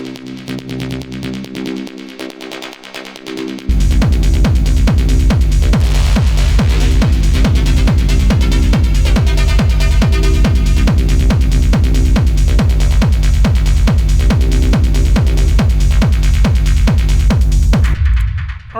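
Industrial techno percussion built in Ableton from a processed synth sound: after a quieter intro, a loud, dense, pounding beat of rapid distorted hits repeats steadily for around fifteen seconds, then stops abruptly.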